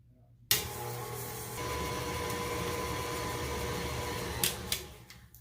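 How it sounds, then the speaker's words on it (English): A stand mixer with a paddle attachment creams butter and sugar for a lemon cake. The motor kicks on abruptly, then runs as a steady whirring hum with faint rhythmic knocks from the bowl before winding down at the end. "So I'm going to get my paddle down into my mixer, and we're going to get our butter and sugar creamed together"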